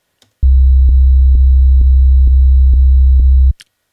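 A kick drum through a low-pass filter with the high end cut away leaves a deep, steady low throb. Seven even pulses sit under a constant hum, loud and close, and stop abruptly after about three seconds.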